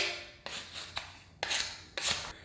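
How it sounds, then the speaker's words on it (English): A putty knife about 1.5 inches wide spreads putty into a crack in new wood trim, making four scraping strokes in an uneven rhythm, close and quiet with no talk. "make sure I fill that crack with putty, go both directions, make sure it's in there really good, and then go across it once"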